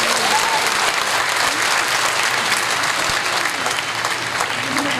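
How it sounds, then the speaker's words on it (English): Sustained, dense applause from a large commencement crowd honoring graduates, loud and steady throughout with no talk over it. "let us all give the loudest round of applause to our dear graduates"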